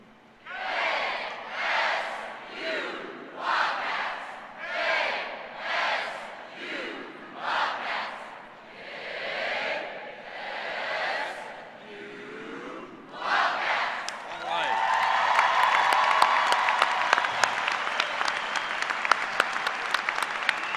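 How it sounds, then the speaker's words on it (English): Kansas State University graduates at a fall commencement chant the KSU cheer in rhythmic crowd bursts, then break into loud, sustained applause and cheering from the full hall. "I will lead you in the KSU cheer."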